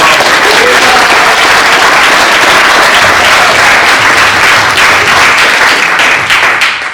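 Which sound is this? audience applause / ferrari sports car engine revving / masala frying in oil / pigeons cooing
audience applause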